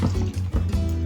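A wet pizza topping mixture with cheese and jalapenos is stirred in a bowl, giving a brief, close squishing and sloshing for about a second, with no talk.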